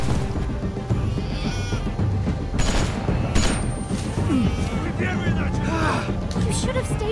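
Scattered gunshots from a zombie-survival video game, The Walking Dead: Season 2, crack amid a dense, busy mix of game ambience and chatter, with several sharp reports rising over the steady din.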